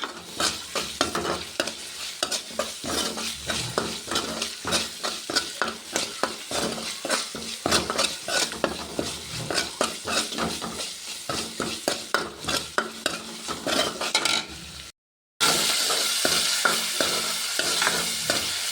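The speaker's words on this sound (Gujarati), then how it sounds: "ચટણીનો વઘાર પાકી જાય ત્યાં સુધી આપણે હલાવતા રહીશું." Chili paste tempering in hot oil for stuffed bitter gourd is stirred with quick, rhythmic scraping strokes, sizzling close by, then a brief pause before the sizzle returns.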